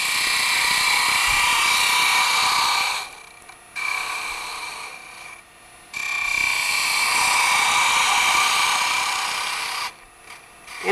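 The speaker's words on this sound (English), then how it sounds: "I'm going to go ahead and start this with the spindle gouge." A spindle gouge cuts spinning wood on a lathe for a threaded jig for a golf ball ring box, giving a loud, steady rasping hiss in long passes broken by brief quieter gaps.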